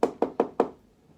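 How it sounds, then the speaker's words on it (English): Four firm knocks on a wooden door come in a quick, even rhythm, close and distinct, and the last one fades into quiet. "there was a knock at the door"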